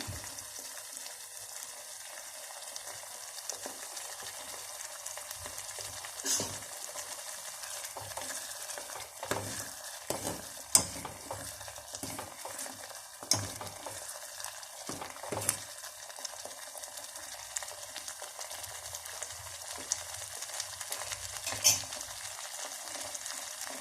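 Kerala-style parippu dal curry thickening in a pan, with soft scraping stirs and a low simmering sizzle, occasional louder spoon knocks against the pan, close and quiet, no speech.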